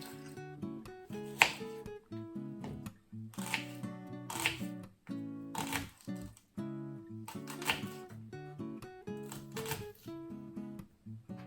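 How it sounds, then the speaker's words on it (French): A knife slices thin strips of feta cheese for sandwiches on a board, quiet repeated cutting strokes in short bursts with brief pauses between them. "je vais juste couper un petit lamelle pour les sandwichs"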